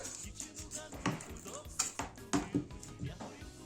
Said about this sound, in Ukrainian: Тепер сюди нарізаю цибульку.